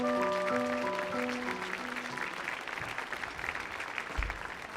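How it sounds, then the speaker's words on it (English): An audience applauds a Dixieland jazz band at a concert hall performance, fairly quiet, steady clapping while the band's last sustained chord rings out at the start, with a low thump near the end. "Give them a big round of applause."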